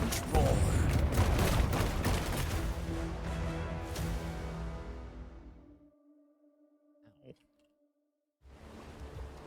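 Repeated booming cannon volleys from ships in the pirate game Rogue Waters, loud and dense at first, fading into quieter mechanical tones, then cut off before a brief return of sound.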